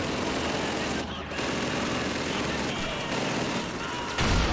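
Machine-gun fire crackles through in Call of Duty 2, a dense, continuous rattle of rapid shots with short gaps and a heavier burst near the end.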